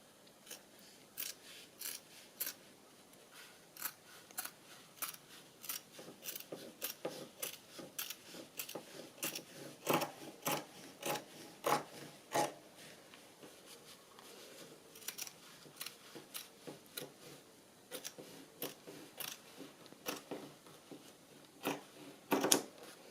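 Scissors snip repeatedly through excess cover material for a 1950s-style handmade journal, a close, crisp series of quick cuts in irregular bursts against a quiet room.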